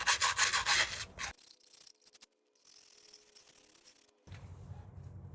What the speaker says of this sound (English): I'm just gonna sand it down with a piece of sandpaper